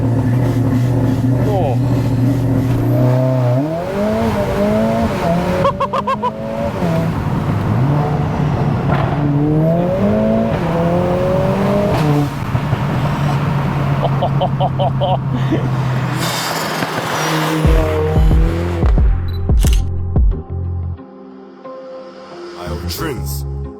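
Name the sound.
Mercedes A45S AMG engine revving with catback exhaust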